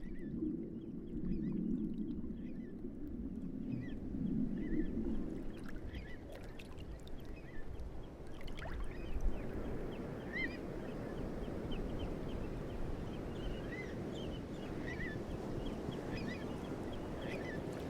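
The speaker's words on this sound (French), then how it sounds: "au bruissement des vagues répondent ceux du vent et des ailes des oiseaux" Estuary ambience: a soft, constant wash of waves and wind at low level, with faint bird calls flickering in the distance through the latter half.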